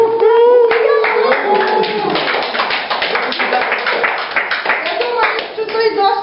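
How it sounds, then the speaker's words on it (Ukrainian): A family camp group with children claps together, brisk uneven hand claps filling the space at close range, with children's voices and chatter mixed in under the clapping. "Оплески."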